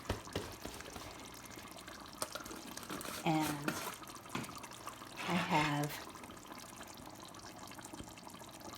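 Water poured from a can into a pot of chili on the stove: two short pours, each with a rising, gurgling fill, set among kitchen clatter while a person talks nearby.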